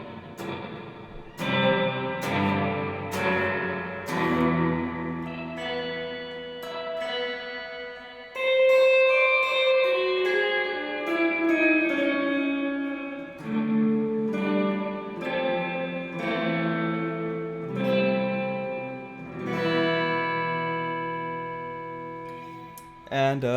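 An Electro Harmonix Holy Grail Neo reverb pedal set fully to maximum washes a sequence of plucked notes and chords in long, ringing echo tails that overlap and fade, heard up close without talk.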